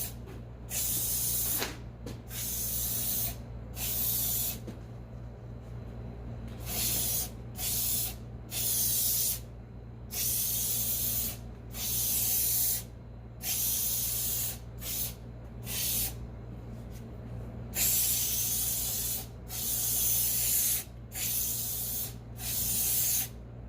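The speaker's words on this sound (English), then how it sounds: "I will spray the glue on the gray fabric." Repeated hissing bursts of spray glue onto gray fabric for a car trunk floor, about a dozen short blasts of varying length separated by brief pauses, close by, over a steady low hum.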